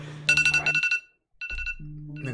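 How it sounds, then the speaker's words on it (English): A loud alarm sounds in rapid repeating high-pitched beeps, then pauses briefly and starts again, close and piercing. "that alarm sound is scary as fuck"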